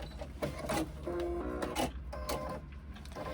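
A sewing machine stitches a fabric pouch in short, close mechanical bursts of whirring and clatter, stopping and starting several times.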